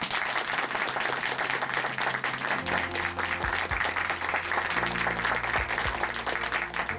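Church congregation at Chuncheon Hanmaum Church applauds after a testimony, steady dense clapping sustained throughout with low music tones entering partway through.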